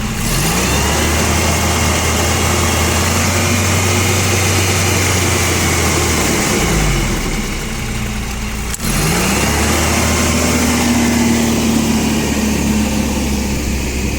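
A loud Toyota 1.5-ton forklift engine runs steadily, its pitch sliding up and down as it revs, with a brief dip near the middle before climbing again.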